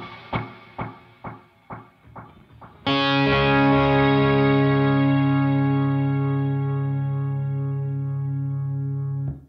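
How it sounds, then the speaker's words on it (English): A Horizon Devices Flux Echo pedal in shimmer and tape echo mode turns a few plucked guitar notes into a loud, sustained, harmonically rich wash with repeating echoes and rising distortion that holds and slowly fades. "Now we're going to go into the shimmer and tape echo mode."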